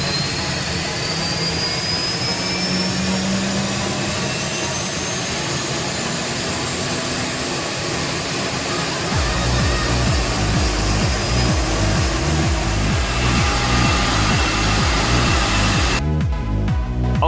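Turbine engine run up on a test rig indoors, a continuous, deafening roar with a rising whine that thickens into heavy pulsing rumble partway through, then drops away abruptly near the end.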